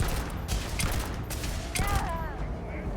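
Rapid clattering turret gunfire in Starfield, repeated bursts of shots in quick succession amid other combat noise, with a voice talking over it.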